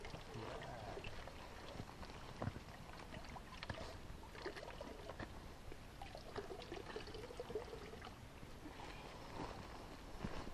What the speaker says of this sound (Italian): Lanciami l'acqua che gli faccio il video